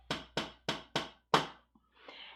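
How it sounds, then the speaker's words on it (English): Five evenly spaced sharp raps on a door, close and crisp, followed by a faint shuffle and a brief soft noise afterward. "And then there was a knock at his door."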